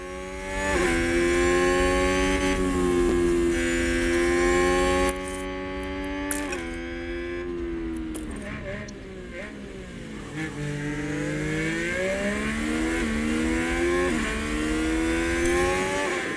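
Formula 1 cars scream through a race, one engine holding a high, loud whine with gear-change dips as a Haas car makes an overtake, with commentary running over the top.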